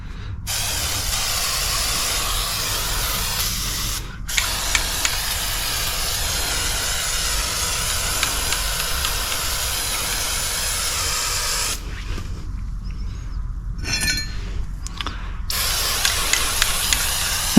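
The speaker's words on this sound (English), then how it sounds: "Spray those down." Aerosol spray can coating the feet of a John Deere X758 lawn tractor being readied for winter, long loud hissing bursts that stop briefly between sprays, then short spurts and a rattle near the end.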